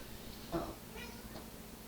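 A cat gives a single short meow, faint and close, followed by quieter rustling.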